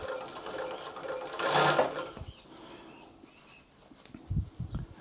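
An industrial cylinder-arm walking-foot sewing machine, a Typical TW3 343D, stitches in a short burst that rises mid-clip and then stops, leaving quieter low knocks and handling thumps afterward.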